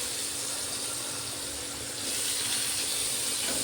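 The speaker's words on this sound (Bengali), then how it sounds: "কুমড়োটাকে এইবার আমি ভালোভাবে ভেজে নেব" Pumpkin pieces fry in hot oil with dried red chilli, a green chilli and nigella seeds, giving a steady, close hiss of sizzling that grows slightly louder partway through.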